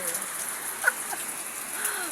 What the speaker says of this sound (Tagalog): Pumatak na naman ang ulan sa likod ko.